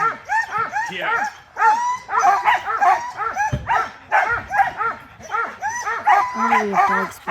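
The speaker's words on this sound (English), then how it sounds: "Oh, we have dogs behind us." Sled dogs bark and yip excitedly all around in a continuous, overlapping chorus, with high yelps and whines throughout; people talk now and then beneath the racket.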